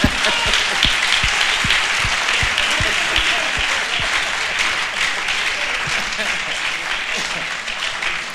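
Audience applauding at a church-style gathering, sustained dense clapping from a sizable crowd with some sharp nearby claps, steady and loud throughout, with a voice speaking over it.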